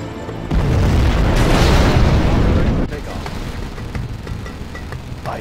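A nuclear missile detonates in Command & Conquer Generals Zero Hour, a loud deep boom with a sustained rumbling roar that drops to a lingering crackling tail, with game voice lines over it.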